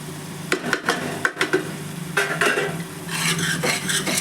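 An onion-tomato tadka with green chilies is stirred and fried in a pan for aloo matar, with sharp spoon-on-pot clanks and scrapes over a soft, steady sizzle.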